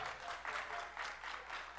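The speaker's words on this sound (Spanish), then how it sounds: "démosle las palmas" A festival crowd at a tribute to marimba players applauds, a steady, soft rolling patter of many hands heard at a distance, pulsing slightly as it continues.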